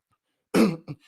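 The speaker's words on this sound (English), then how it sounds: "Let me clear my throat." A man clears his throat up close: one harsh, rasping burst, then a shorter second rasp just after, with silence before it.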